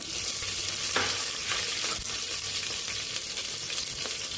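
Green chillies frying in hot oil for a potato and pea curry, a bright continuous sizzle close up with occasional soft scrapes of stirring, no voices.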